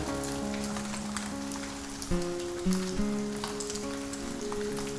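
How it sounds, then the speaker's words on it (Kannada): Two cubes of butter sizzle in a hot kadai on the stove, a steady crackling patter running continuously beneath background music. "ಈಗ ಕೊನೆಯ ಹಂತದಲ್ಲಿ ಬೇರೊಂದು ಕಡಾಯಿಯನ್ನು ಸ್ಟವ್ ಮೇಲಿಟ್ಟು ಚೆನ್ನಾಗಿ ಕಾದ ನಂತರ ಎರಡು ಕ್ಯೂಬ್ ಬಟರ್ ಹಾಕಿದ್ದೆ"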